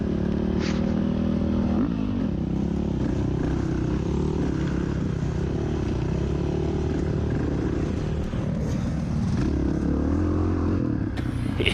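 Big-bore four-stroke dirt bike racing on a sand hill course, its engine droning loud and close throughout with a steady low roar, shifting pitch as the rider short shifts, with faint clatter over the top.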